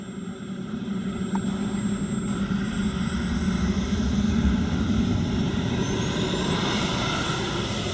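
A turbine-powered CARF MiG-17 RC model jet flying past at an air show, a steady loud jet roar with a rising whine that holds throughout, no voices over it.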